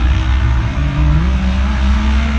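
Off-road UTV race cars at a motocross-style track roar into the first turn after the start, with loud engines droning and revving over each other, close and sustained.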